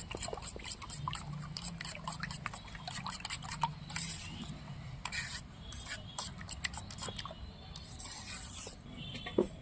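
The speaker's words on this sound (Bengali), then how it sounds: "এবার আমি কাঁটা চামচ দিয়ে ভালো করে ফাটিয়ে নেব সব উপকরণগুলো দিয়ে" Egg mixture with chili powder being beaten with a fork in a bowl, a close, quick irregular series of light clicks and wet scrapes running throughout.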